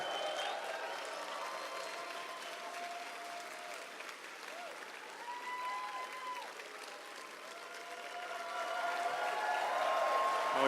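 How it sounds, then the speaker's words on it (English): A large live-show audience at RTX 2017 in a convention ballroom cheers and applauds continuously, a dense steady roar of clapping with whoops and shouts that swells louder toward the end, no clear talk over it. "Oh, you guys are cheering way too loud."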